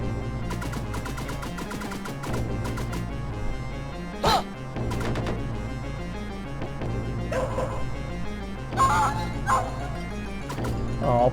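Digitized dog barks, yips and whimpers from the arcade game Shadow Dancer, running on MAME, ring out in repeated bursts over looping in-game music and sound effects.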